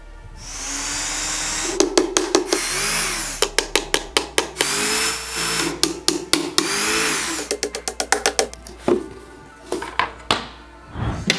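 Hand drilling into a wooden speaker box panel using a cut nail head as the drill bit, a motor whirring in repeated bursts broken by quick clustered stops and restarts, loud and close, with no talk.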